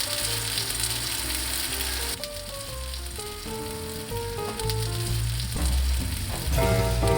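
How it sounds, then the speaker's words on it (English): Breaded schnitzel fries in a pan with a steady sizzling hiss, partly overlaid by tonal music notes. "dredge it in breadcrumbs, and then it's ready to fry"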